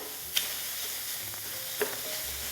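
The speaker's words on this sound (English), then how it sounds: "I've got one diced onion. We're going to start sauteing." Diced onion sautéing in a pan, oil-free, a steady soft sizzle with a couple of brief stirring clinks and scrapes, close and moderately quiet.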